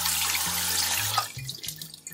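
Cold tap water runs over boiled shrimp in a kitchen sink to cool them, a close splashing stream with gurgling, bubbly shifts in pitch as the flow hits the shrimp and pools, then tapers toward drips.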